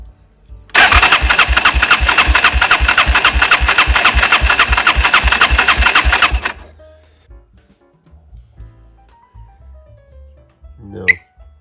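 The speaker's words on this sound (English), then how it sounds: "Throttle open." A 250cc quad bike engine runs hard with the throttle held open, a loud steady roar with rapid pulsing firing beats that cuts off abruptly, followed by quieter handling noises and a brief sharp sound near the end.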